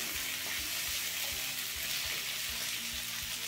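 Sliced potatoes and onion frying in a kadhai over a medium flame, making a loud, continuous sizzle that stays even throughout with no voices.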